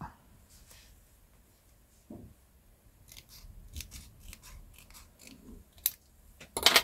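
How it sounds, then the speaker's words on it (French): Scissors cutting paper for a handmade humorous card: a series of close, crisp snips spaced irregularly, a few small handling sounds between them, ending in a burst of quick cuts. "Je vais en couper un troisième morceau."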